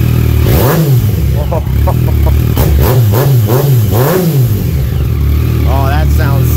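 A 2017 Yamaha FZ-09 triple-cylinder engine with a carbon fiber M4 exhaust revs repeatedly in loud, close, rising-and-falling blips, with a rougher burst near the end and a voice speaking over it.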